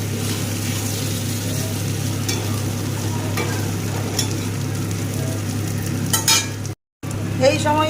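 Chopped tomato and spices stir-fry in a pan over a steady sizzle, with a spatula scraping and occasionally clinking against the metal close by.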